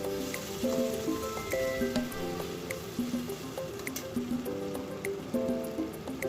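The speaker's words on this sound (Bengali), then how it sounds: "এবার আমি মশলাটাকে একটু তেলের মধ্যে ভালো করে কষিয়ে নিচ্ছি" Spice paste sautés in hot oil over low heat for a catla fish curry. A moist crackling and popping sizzle runs on steadily with wet squishy stirring sounds, and a soft tonal background plays underneath.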